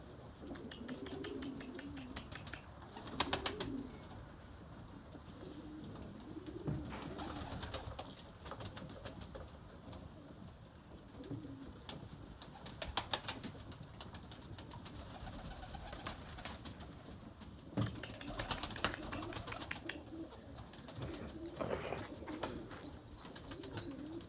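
Pigeons kept as breeding stock coo repeatedly at close range in a loft, with soft rolling calls, occasional chirps and brief bursts of rustling and wing noise.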